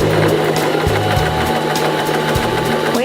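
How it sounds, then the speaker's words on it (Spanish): A Janome 2049x sewing machine stitches fabric in a steady, close, rapid mechanical whir with a regular needle clatter that runs unbroken for about three seconds, with no voices. "Voy a hacer un atraque para finalizar mi costura."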